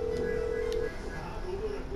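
A mobile phone in the video game GTA 5 gives a clear, steady electronic dialing tone for just under a second, followed by fainter wavering beeps over low background noise.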